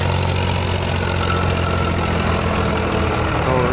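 A 47 hp Farmtrac 45 diesel tractor engine idles steadily, a continuous low rumbling chug at constant loudness with no voices.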